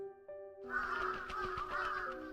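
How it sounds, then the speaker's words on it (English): Crows and birds cawing and squawking in a video game, a dense burst of raucous calls that begins abruptly after a quiet start and continues loud and close over a faint tonal background. "the crows and birds are coming out!"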